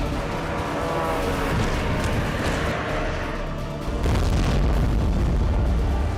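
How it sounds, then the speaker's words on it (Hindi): Russian drone strikes hitting a building, heard as a continuous rumbling roar of explosions with a heavier burst near the end, loud and close. "जिस इमारत से एक के बाद एक रूसी ड्रोन टकरा रहे हैं"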